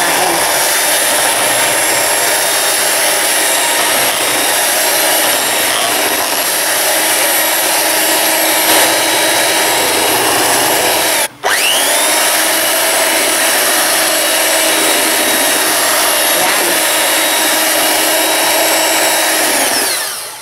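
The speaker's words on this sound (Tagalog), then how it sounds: "mix lang natin using a hand mixer" A hand mixer whirs steadily through an ice scramble mixture, a loud, continuous buzzing drone that cuts out for an instant partway through, then resumes unchanged. No voices.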